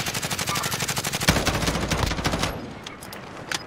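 Rapid automatic gunfire rattles in a shooter video game, with a fast steady burst of shots for about two and a half seconds, then a lull and a few isolated shots.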